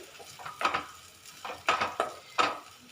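Mango thokku being stirred in oil in a pan, with several scraping, sizzling strokes of a spoon against the pan at an uneven rhythm, close by and clear, with no talking.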